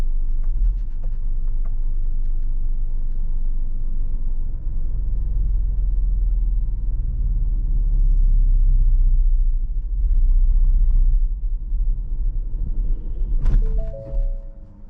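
Manual car engine rumbling low and steady while driving slowly in the city, a deep continuous hum with slight swells and a faint clunk near the end.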